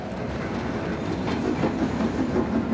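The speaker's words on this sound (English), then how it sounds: "So Armand takes a train" A train clattering steadily along the rails in a film set on a trip from Arles to Paris, a continuous dense rumble with faint rhythmic clicks, loud and unbroken, with no voices.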